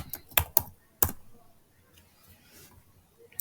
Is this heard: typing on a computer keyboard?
yes